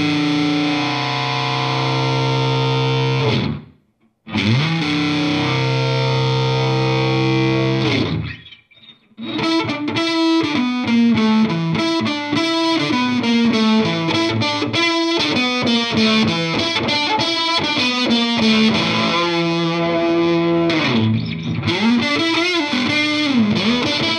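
Electric guitar played through a Soundblox Pro Classic Distortion pedal, morphing between two distortion types into wild fuzz; loud sustained chords, a brief pause, then busy rhythmic riffing with shifting, swirling tone, no voices.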